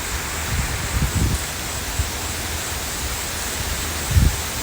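Steady wind roaring and buffeting across a Thai rice field, with a few low rumbling gusts hitting the microphone, no voices.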